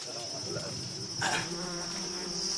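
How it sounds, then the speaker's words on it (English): A dense, steady buzzing of a disturbed hive of African bees swarming close by, a continuous high drone that swells slightly midway. "A hive of African bees has been disturbed by the hunting party, and now they're starting to swarm"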